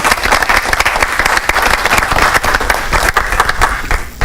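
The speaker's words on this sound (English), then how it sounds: "Little round of applause." Loud, steady applause fills a school board of education meeting, honoring a fifth grade teacher; dense overlapping clapping from a room full of people continues without a break.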